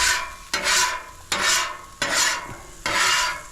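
Red snapper pieces shifted across a hot Blackstone griddle, loud bursts of sizzling and scraping that swell and cut off in four or five distinct waves, close up with no talking.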